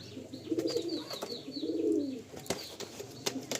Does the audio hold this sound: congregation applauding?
no